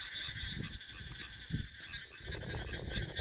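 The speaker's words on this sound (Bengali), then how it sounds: "ব্যাঙের ডাক ছাড়া কিছুই শোনা যাচ্ছে না এখানে" Frogs call in an empty field at night, faint uneven croaks and honking calls rising over a steady high insect-like drone, with no other sounds nearby.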